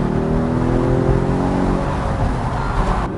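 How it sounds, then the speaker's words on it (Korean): A Mercedes-Benz E450 Cabriolet with the M256 engine, here without the electric turbo, accelerates hard. The steady engine note climbs smoothly in pitch under constant road and wind roar, close and loud throughout. "이 전기 터빈이 빠져 있는 M256 엔진도 기가 막히죠. 그래서 좀 달려보면"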